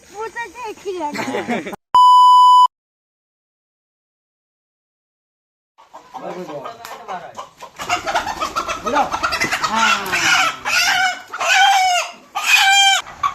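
A rooster clucks and calls in short bursts, close by, with a brief electronic tone near the start and a quiet gap before the bird sounds resume.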